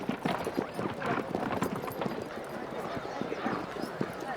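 Horses racing at the Naadam festival in Mongolia, rapid continuous hoofbeats drumming close and loud with an occasional whinny, under a narrator's voice.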